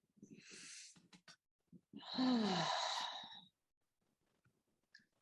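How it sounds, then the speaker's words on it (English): Slow, deep breaths during a reflexology relaxation exercise, with one soft inhale followed by a long, audible exhale like a sigh, close and quiet in a still room. "take nice, deep breaths"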